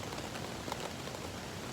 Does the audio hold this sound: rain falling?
yes